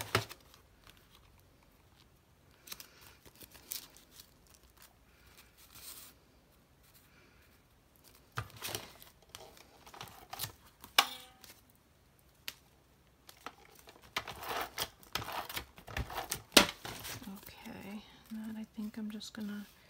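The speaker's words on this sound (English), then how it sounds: "Just tape these down." Tape being pressed onto paper pages of a Smashbook journal during crafting, heard as soft, sparse crinkles and short tearing rustles that grow busier toward the end, close and fairly quiet.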